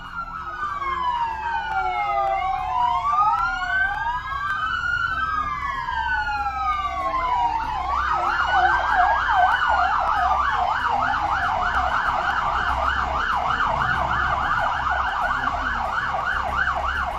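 Several wailing sirens overlap and sweep up and down, later joined by a faster yelping siren, loud and continuous over a low traffic rumble.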